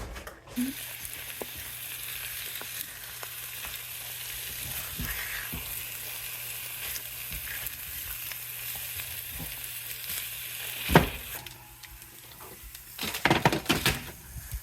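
Three eggs and thick bacon fry in a pan with a steady, broad crackling sizzle throughout, then louder clinks and scraping near the end, no voices.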